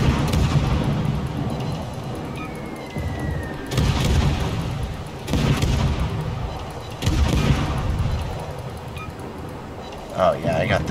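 Warship cannons firing in a World of Warships naval battle, heard as several heavy booms spaced a couple of seconds apart over a steady rumble of game noise, with a voice talking throughout.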